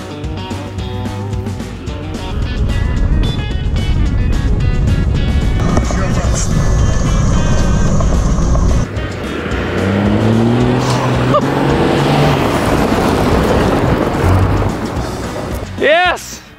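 A fast 4WD rally-style car running low on power races past and over a jump, engine loud and rattly, with revs rising and falling and a sharp tire-squeal sweep near the end.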